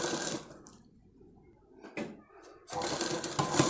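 A sewing machine stitches a blouse, joining the shoulder seam, in two loud whirring runs at the start and end with a quieter pause between, heard close up.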